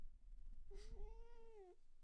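A female cat gives one clear, drawn-out meow close by, rising and then falling over about a second against a quiet background.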